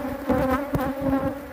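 Honeybees buzz in a dense, steady drone close by at an apiary of about forty hives, a short burst of humming with no speech over it.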